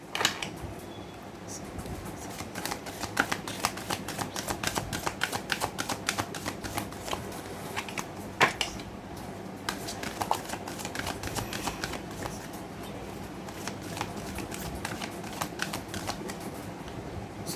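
Tarot cards are shuffled by hand, close up, in a steady run of soft riffling flicks and taps that continues with little pause.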